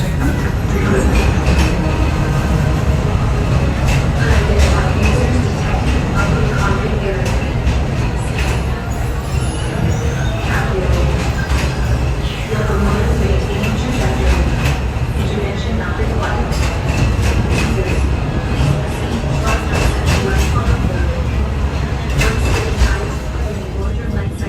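A train on the Magic Kingdom railroad rumbles steadily and loudly, with a continuous low roar and clatter of wheels on track throughout.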